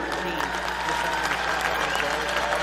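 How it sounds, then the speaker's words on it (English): An audience applauds at a Rivermen hockey hall of fame induction, a thick continuous roar of clapping in a hall, loud and sustained, with a voice partly audible beneath it. "one more big round of applause for the late, great Norm Ulrich"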